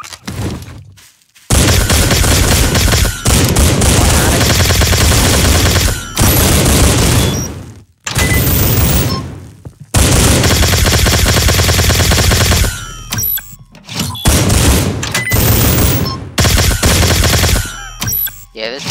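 Ray Gun Mark II wonder weapon firing in Garry's Mod, loud sustained bursts of rapid energy shots with brief pauses between volleys, dense and close throughout.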